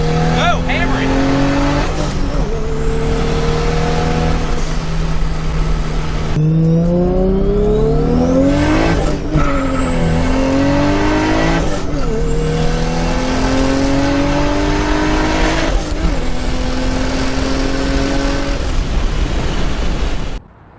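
A 900HP Toyota Supra with anti-lag accelerates hard on a street, its engine roaring loud and close through rising gear pulls with sharp shifts, while people talk over it.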